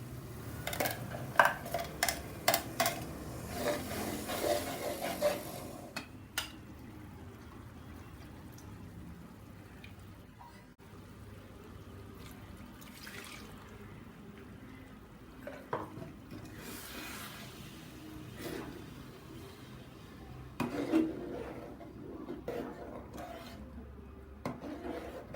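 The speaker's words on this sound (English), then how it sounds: "Now I am adding already roasted and ground well masala paste to the onion and tomato masala." A spoon scrapes and stirs thick ground masala paste into onion and tomato masala in a pan, soft intermittent rubbing and scraping with occasional clinks and quiet pauses between strokes.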